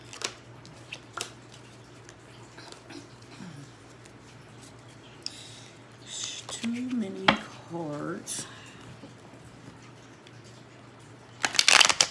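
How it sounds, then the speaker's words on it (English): Tarot cards are shuffled with soft scattered slides and taps, ending in a quick riffled burst. A voice murmurs briefly in the middle. "Shuffle one time just to put those cards back in."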